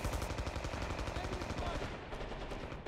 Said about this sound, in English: I just heard an MKB or STG.